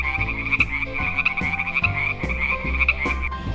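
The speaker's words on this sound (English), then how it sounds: "here we have whoa, wow, orange color frog" An orange frog croaks in a steady series of about eight sharp, rhythmic calls, close and fairly clear, with no voices.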